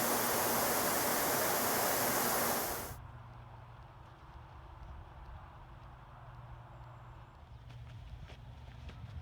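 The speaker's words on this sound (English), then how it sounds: "It's a beautiful waterfall here in Dalton." A waterfall on the Appalachian Trail in Dalton gives a loud, dense rushing roar for about three seconds, then drops abruptly to a quiet outdoor background.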